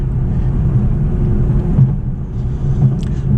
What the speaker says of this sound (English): but you got a little engine there.